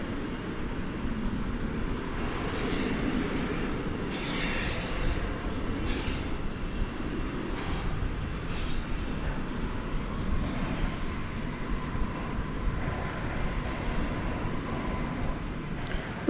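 A 1984-built airliner at DFW Airport in the evening, heard as a continuous broad, distant jet roar that holds steady and fairly loud throughout, with no voices over it.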